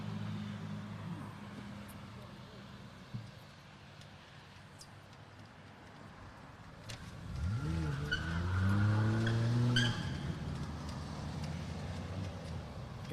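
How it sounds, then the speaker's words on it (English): A truck in a drag race revs hard behind the grounds, its engine rising sharply in pitch through gear changes with tyres squealing, starting distant and growing louder before trailing off. "A truck was trying to get involved in a drag race behind us"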